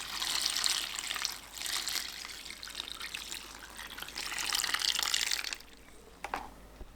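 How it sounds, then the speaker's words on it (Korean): Pickling brine of water, vinegar and soju poured over bok choy, a continuous close splashing pour that swells and eases in waves before tapering to a trickle and a few drips, with no voices. "바로 청경채 위에 부어주세요."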